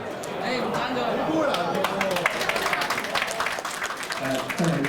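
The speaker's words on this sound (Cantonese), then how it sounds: "真係要多啲掌聲，我哋張永傑同學" An audience at an awards ceremony applauding student Zhang Wing-kit, a champion in a Hong Kong Chinese martial arts competition, with scattered clapping and crowd chatter under an announcer's voice.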